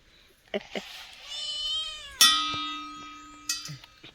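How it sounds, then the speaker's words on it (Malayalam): A domestic cat meows in a series of drawn-out, rising and falling cries close by, with a few short clicks and knocks in a quiet indoor home setting. "പൂച്ചീടി ഇങ്ങനെ കാളിക്കോണ്ട് പോയിട്ടാ"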